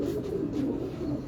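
A Shah Parwaz pigeon gives a soft, low cooing call, brief and fairly close, over quiet background.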